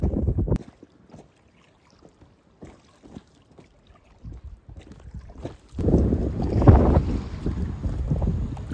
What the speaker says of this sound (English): As you can tell, it is very windy out here